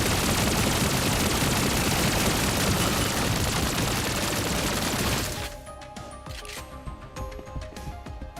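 Rapid pistol fire from the action game Punishing: Gray Raven rattles as a dense, loud, continuous burst of shots, then cuts to sparser cracks and game effects with a lighter background.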